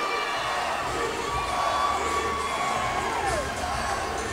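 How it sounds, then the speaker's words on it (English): An arena crowd at the 2017 NCAA women's gymnastics championship semifinal screams and cheers continuously, a loud, even wash of distant voices with a few higher whoops rising above it. "I can hear them screaming."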